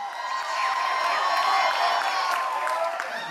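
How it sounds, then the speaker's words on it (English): An audience aboard a soca music cruise cheers and claps for the artists during a panel discussion, a steady moderately loud crowd roar with whoops and applause. "So I want you to give a round of applause for all of them."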